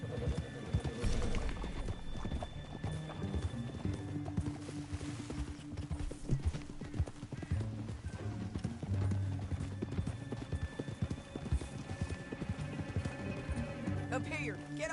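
Horse hooves clip-clop at a steady, rhythmic gait in the Red Dead Redemption 2 video game, riding continuously under layered game ambience and soft background tones.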